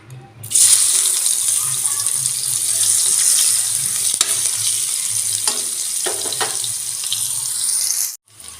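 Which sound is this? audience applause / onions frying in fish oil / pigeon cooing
onions frying in fish oil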